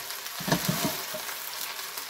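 Food stirred in hot oil in a home kitchen until golden, a steady broadband sizzle with a few soft scraping stirs near the start, close and moderately loud, no talking.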